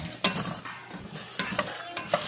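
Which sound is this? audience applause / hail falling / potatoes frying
potatoes frying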